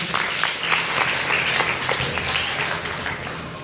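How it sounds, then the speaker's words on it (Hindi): Sustained audience applause at a business motivational talk, many hands clapping in an even, moderately loud burst with no voices over it. "एक बार जोरदार तालियां"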